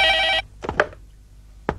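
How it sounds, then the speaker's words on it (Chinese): An old-fashioned telephone bell rings loudly for a short burst, then cuts off, followed by a few soft handling clicks and thumps as the receiver is picked up. "哦，局长电话。"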